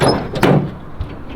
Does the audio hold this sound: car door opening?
yes